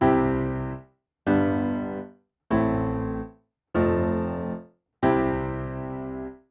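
Five sustained piano chords, evenly spaced, each fading before a brief moment of silence separates it from the next, gaps caused by lifting the sustain pedal as each new chord is played.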